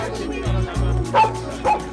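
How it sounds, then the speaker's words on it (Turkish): A police dog gives a few sharp, close barks and yips, with short whining breaks between them. "Polis köpeği Badi şimdi bombanın yerini bulacak."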